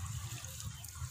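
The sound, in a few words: watering potting soil with water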